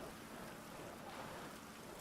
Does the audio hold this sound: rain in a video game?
yes